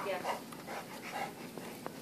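A 14-month-old dog pants softly and lets out small whimpers and yips close by, while a person talks over it.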